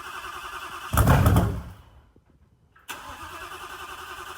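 A 1,500-horsepower twin-turbo Coyote V8 Mustang fires up for the first time: a loud, close burst of cranking and catching that fades to near silence, then a steady running drone returns.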